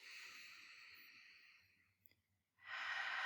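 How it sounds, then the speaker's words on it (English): Slow breathing drill: a long, steady airy inhale through the nose fades out, a short pause follows, then a loud, close breath sound starts up again; no talking. "you're just going to focus on breathing in through the nose,"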